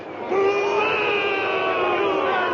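A large rioting crowd roars and shouts together in a sustained, loud mass of voices, with a few raised cries standing out above the din.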